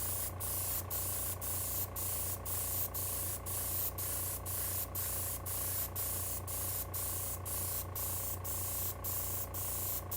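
An airbrush sprays paint onto an HO scale model, a steady close hiss with a faint rhythmic pulsing beneath it, running alone and unbroken.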